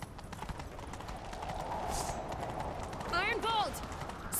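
A horse gallops in The Witcher 3 video game, rapid rhythmic hoofbeats with a whinny partway through, under game dialogue and ambient noise.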